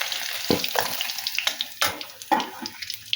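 Small tengra fish frying in a pan, a moderate sizzle punctuated by several sharp sputtering bursts as the pieces are turned and stirred.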